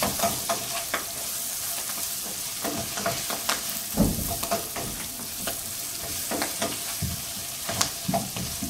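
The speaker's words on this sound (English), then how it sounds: "And we're going to stir it around." Food with a freshly added herb is stirred around in a frying pan, giving a continuous close sizzle broken by frequent scraping and tapping strokes of the spoon, with no one talking.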